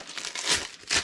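Cheap tape being handled to hold edge pieces in place: a few soft, close crinkling and peeling rustles in quick irregular bursts, with no talking.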